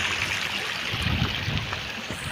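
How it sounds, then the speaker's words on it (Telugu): A forest waterfall pours over rock, a steady, close rushing of water with a soft, even wash and no voices. "ఇక్కడ వాటర్ బండ మీద నుంచి ఫ్లో అవుతూ ఉన్నాయి"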